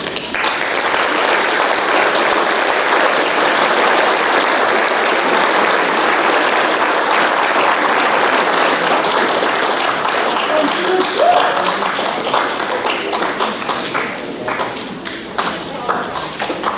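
Sustained applause from a banquet audience honoring Iowa FFA degree recipients, a steady dense wash of clapping that fills the room for the full stretch and thins slightly near the end.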